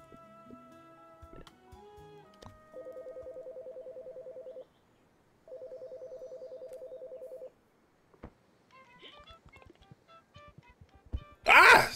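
A telephone is dialed with a quick run of keypad tones, then rings in two long buzzing bursts separated by a pause, followed by scattered clicks and a loud burst of noise at the end.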